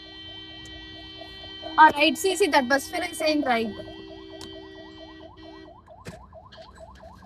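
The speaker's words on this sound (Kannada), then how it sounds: "ಆಂಬುಲೆನ್ಸ್" An ambulance siren wails in a steady repeating rising tone with a sustained horn underneath, heard somewhat at a distance behind someone speaking, continuing after the talk stops.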